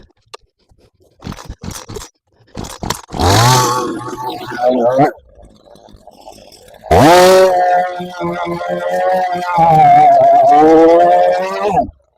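Chainsaw cutting thorny trees, revving loudly in two long sustained bursts after a few short scraping knocks, close up with no voices.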